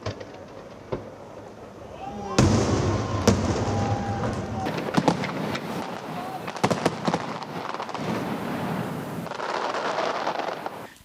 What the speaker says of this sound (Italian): la meraviglia dei fuochi, una tradizione che si rinnova tra cielo e laguna